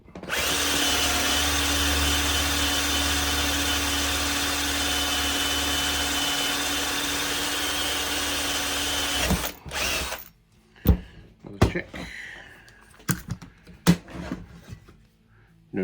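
Power drill boring tuner peg holes through the headstock of a seven-string baritone guitar build, a steady loud whine for about nine seconds, then several short separate bursts of drilling and handling clatter.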